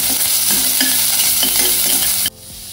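Onion and curry leaves sauté in hot oil for a paneer pepper fry, with a loud close sizzle and rhythmic stirring that drops off sharply near the end.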